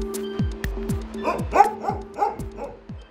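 Dogs bark and yip in an animal shelter, a rapid string of overlapping barks with some whining, close and lively over a low background hum.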